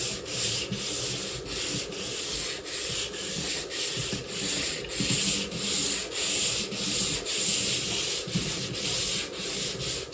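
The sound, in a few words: lightly sanding painted scenery by hand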